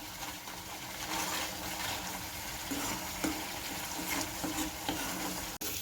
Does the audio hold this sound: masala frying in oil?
yes